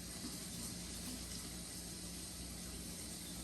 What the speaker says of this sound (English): So I'm going to rinse out my dropper again.